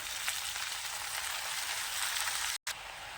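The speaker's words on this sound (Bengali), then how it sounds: "পেঁয়াজগুলো ভাজা হয়ে গেছে, এখন আমি শাক দিয়ে দেবো।" Spinach greens hit a pan of fried onions and sizzle steadily, a loud continuous frying hiss with a brief dropout near the end.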